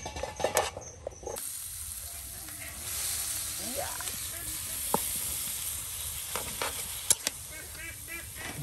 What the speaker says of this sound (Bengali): এখন কিছু সময় তেলে উলট পালট করে নিলেই কিন্তু একদম ভাজা ভাজা হয়ে যাবে আপনার লাউ শাক ভাজি